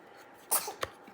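A single sharp human sneeze, close and clear, followed by a smaller catching breath, in an otherwise quiet room without talk.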